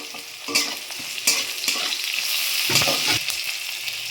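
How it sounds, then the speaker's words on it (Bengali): Black cumin seeds are tempered in hot oil, producing a bright continuous crackling sizzle up close, punctuated by several sharp stirring scrapes and taps. "কালো জিরে ফোড়ন দিচ্ছি"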